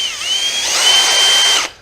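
A Kobalt 24V brushless cordless drill runs for under two seconds, its high motor whine rising in pitch as the trigger is squeezed for more speed, then cutting off abruptly.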